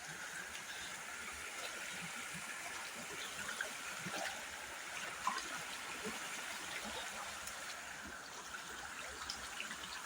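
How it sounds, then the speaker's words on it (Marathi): Water flows steadily near a village dam in Konkan, a soft continuous trickle and babble with no voices. "कसं पाणी वाहतंय"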